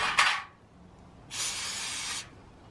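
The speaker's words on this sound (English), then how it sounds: "I'm just gonna spray this with some brake parts cleaner." Two bursts of aerosol brake parts cleaner hiss onto the front brakes of a 2004-2009 Toyota Prius, a brief one followed by a longer, steady spray lasting about a second, with quiet between them.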